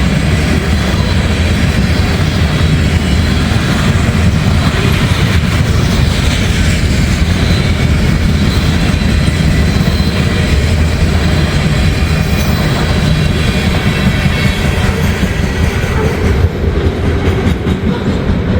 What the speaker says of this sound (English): This is Connersville. It is quite the long train.